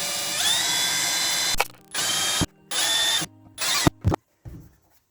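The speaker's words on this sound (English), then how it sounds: "we got our Milwaukee M12 drill here. I have a 9/32 drill bit on the end" Milwaukee M12 cordless drill with a 9/32 bit boring holes on a makeshift freezer-top work table, running in several loud bursts of varying length separated by short pauses, each start and stop sharp.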